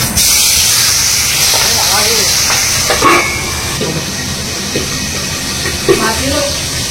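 Pabda fish frying in hot mustard oil with black cumin gives a loud, steady broadband hiss and sizzle that runs throughout, with faint voices briefly audible underneath.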